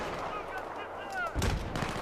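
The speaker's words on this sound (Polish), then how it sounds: "Strzelają do mnie!" Video game gunfire: a loud burst of shots crashes in near the end after a quieter stretch, with a gasping voice present.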